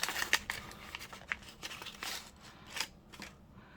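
Scissors cut through a paper junk-mail journal cover in quiet, close snips and crinkles, a few sharp cuts spread over a few seconds with no talking.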